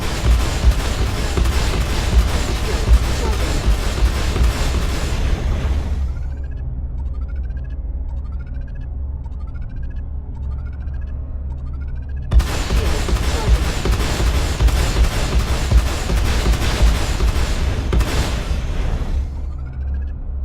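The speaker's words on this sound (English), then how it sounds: "I will fire all my weapons simultaneously" Ship weapons in the Star Citizen space game fire together in a dense, loud, continuous barrage over a low engine hum, stopping for several seconds while chirping recharge tones repeat, then resuming at full intensity.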